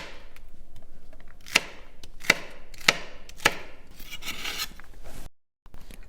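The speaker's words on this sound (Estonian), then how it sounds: "Järgmisena lõikame varsselleri võiks lõigata niimoodi pooleks, kui ta on väga lai" A knife chops celery stalks on a cutting board, four sharp distinct knocks at a steady pace, then a burst of rapid lighter cuts, close and clear with no talking.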